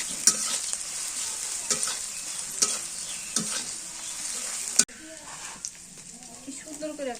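Beef liver and tripe fry in a pan over a clay stove, giving a loud, steady sizzle broken by sharp scrapes of stirring; after a sudden drop, the frying goes on more quietly with a voice faintly underneath.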